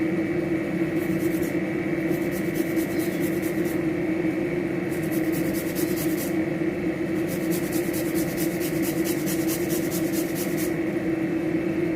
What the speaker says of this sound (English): grate the garlic and ginger